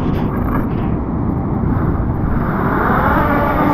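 A loud, steady drone of a flying drone dominates with buffeting wind noise during rock fishing, a continuous roar that doesn't fade or change much.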